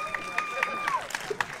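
Audience clapping for a folk music band at the Muziky pod Poľanou 2022 festival: a short burst of quick, even claps with crowd noise and a sustained tone behind them.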